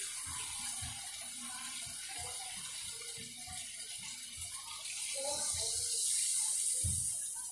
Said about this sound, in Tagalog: lagyan na po natin siya ng water para po sa sabaw ng tubig po